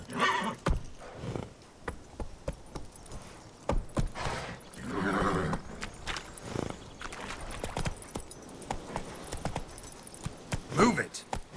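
Horse in The Witcher 3 video game whinnying and clip-clopping along, hooves thudding irregularly with a snort or neigh bursting out midway and near the end, close and moderately loud throughout.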